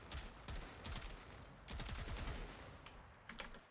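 Trumna weapon fired in a video game, a run of rapid, sharp shots in two quick bursts with a few scattered single cracks afterward, fairly faint.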